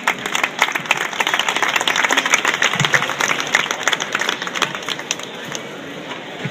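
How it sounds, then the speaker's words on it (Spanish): Loud, sustained applause from a crowd at a new team jersey presentation, dense clapping filling the room for several seconds before easing slightly at the end. "Fuerte aplauso a David."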